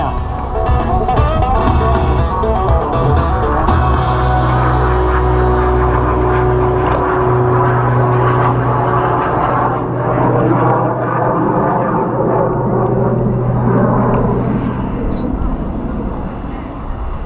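Yak 110 aerobatic aircraft making a pass at a military airshow, its loud engine roar rising and falling with a shifting pitch, heard under an announcer talking over a public address system.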